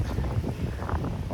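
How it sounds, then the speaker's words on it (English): Steady wind blows across the White Sands dunes in New Mexico, roaring and buffeting into the microphone with low rumbling gusts throughout. "it is the windy time of the year for these guys, so it's pretty windy out here"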